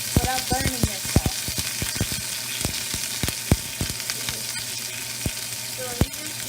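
Lamb chops sizzle in a hot pan as they go in, a dense crackling fry punctuated by sharp pops and clinks of the fork against the pan, close and loud with no talking.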